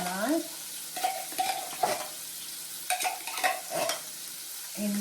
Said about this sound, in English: We're gonna brown those medallions up.